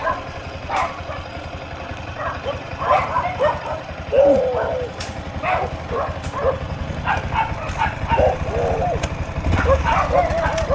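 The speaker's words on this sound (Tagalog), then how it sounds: "Daming aso." Many dogs barking in a rural Philippine outdoor setting, repeated sharp barks and yips from several animals at varying distances over a low idling engine rumble, with people talking at times.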